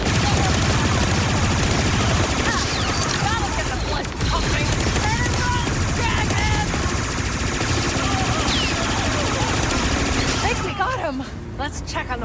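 Blaster fire in Star Wars Outlaws during a firefight: rapid bursts of zapping shots and volleys, loud and continuous over about twelve seconds, with voices calling out amid the shooting before a brief drop near the end.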